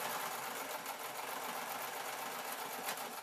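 A sewing machine runs continuously while stitching a rolled hem on a tartan skirt, giving a close, steady whirring hum with rapid needle chatter and no pauses.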